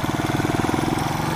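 Motorcycle engine running while riding through Maadi streets in Cairo, a steady mid-pitched putter with rapid even pulses, close and continuous with no talk.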